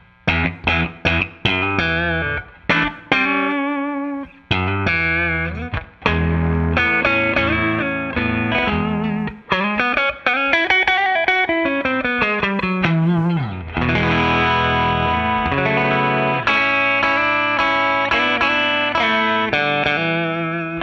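A 1958 Fender Stratocaster electric guitar with factory gold hardware, played through its middle pickup position: bright, distorted notes and chords in a continuous phrase, sharply plucked attacks with some sustained bends, loud and alone with no talking.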